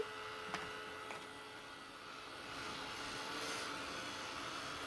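Steady whirring drone of an electric heat tool drying a shaker card panel, with a couple of light clicks at the start, then an even, unbroken blowing hum that swells slightly partway through.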